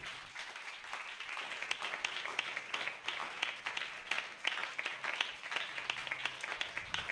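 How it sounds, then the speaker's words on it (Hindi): A church congregation claps together in welcome during a worship service, a steady, fairly loud spread of many hands that fills the room with dense, continuous patter and no voices over it. "अगर आप परमेश्वर के वचन के लिए तैयार हैं तो ताली बजाकर परमेश्वर के वचन का स्वागत कीजिए"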